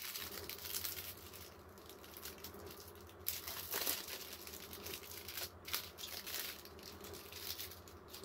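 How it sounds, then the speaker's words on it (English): Crinkling and tearing of a Magic the Gathering Arena starter kit card pack wrapper, faint and close, with soft irregular crackles and a slightly sharper rip partway through. "if I can ever get this pack open, we'll see the rest of the cards in this deck"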